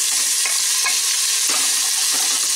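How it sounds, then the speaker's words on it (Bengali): Chopped onions fry in hot oil over medium-high flame for egg biryani, a loud continuous sizzle broken by a few stirring scrapes at regular intervals. "সেই পেঁয়াজটা এর মধ্যে দিয়ে দিলাম। দিয়ে আমি পেঁয়াজটাকে খুব ভালো করে গোল্ডেন ব্রাউন করে ভেজে নেব।"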